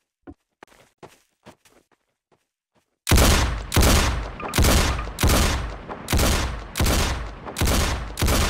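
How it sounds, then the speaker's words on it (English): Heavy sniper rifle gunfire in a Roblox video game: after a few light, quiet clicks and taps, six loud, booming shots ring out at a steady spaced rhythm, each trailing off briefly. "That's a big sniper rifle."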